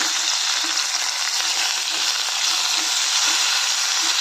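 Onion, tomato and chopped eggplant sauté in oil inside a pressure cooker, a steady, dense sizzle that holds evenly from start to finish, close and fairly loud.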